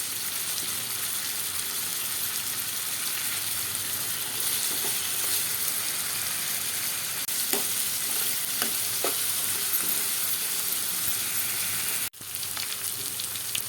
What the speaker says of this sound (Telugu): అల్లం వెల్లుల్లి పేస్ట్ ఐదు నిమిషాలు వేగిందండి